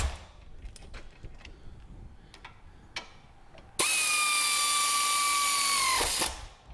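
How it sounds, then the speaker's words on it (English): Pneumatic air gun driving in wheel bearing bolts in a garage. Quiet clicks and shuffling come first, then a single loud sustained burst of high, hissing whine lasts about two and a half seconds before cutting off abruptly. "Just shoot them in with the air gun"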